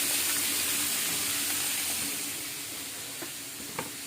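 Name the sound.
vegetables added to sizzling pan for pansit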